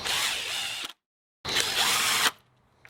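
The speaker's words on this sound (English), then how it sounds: "Now I'm just going to put 1 screw per hinge" A cordless power drill drives screws into door hinges on a flat door jamb, two loud whirring bursts separated by a short pause, each stopping abruptly.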